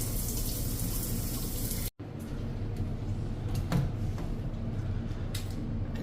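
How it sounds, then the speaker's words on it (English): Steady broadband rush of a campground shower at Kokanee Creek running with decent pressure, loud and continuous with a brief dropout near two seconds, then water spattering on, no voices. "Well, this isn't bad for a campground shower. Got some decent pressure."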